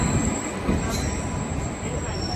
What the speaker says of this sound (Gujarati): 2 કલાક વાટ જોઈને પછી ટ્રેન આવી. હવે જાય છે.